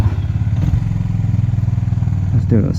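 A Honda CB350RS motorcycle engine runs close by with a steady, rhythmic low thumping idle, and a voice briefly rises near the end.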